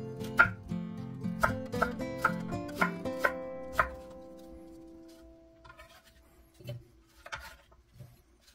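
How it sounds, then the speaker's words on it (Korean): A knife slicing a peeled, seeded pear into pieces on a cutting board for kimchi, a series of crisp, close chops in a quick, fairly regular run, then a few softer, scattered knocks after a pause. "배 반개는 씨와 껍질을 제거하고 믹서기에 갈기 좋게 썰어주세요."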